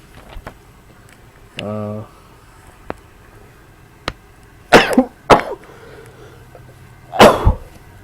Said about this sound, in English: I had a little bit of a cough there